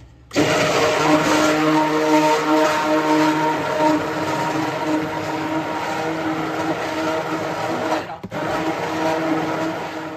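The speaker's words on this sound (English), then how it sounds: "we're going to start blending this. So this is where it gets noisy." A blender mixing goat milk soap batter whirs loudly and continuously at close range, a steady motor roar with one brief dip near the end.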